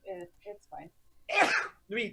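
A single loud, breathy sneeze bursts out in the middle of casual conversation, with people talking just before and after it.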